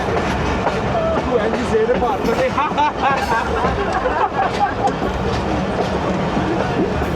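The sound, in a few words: Awam Express train running on loop line while crossing another train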